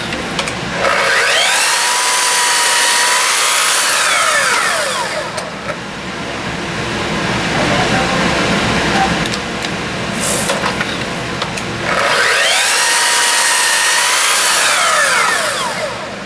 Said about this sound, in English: Run that through, make a cut.